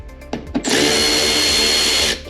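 A power tool whirs at close range as it backs out a fender flare screw on a 2022+ Toyota Tundra, a loud steady drone following a few short bursts at the start.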